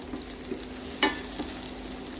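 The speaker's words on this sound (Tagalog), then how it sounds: "Now let's add our sliced onion. Fry for a few seconds." Sliced onion frying in a pan for sweet and sour fish escabeche, a quiet steady sizzle with one brief sharp scrape of a utensil near the middle.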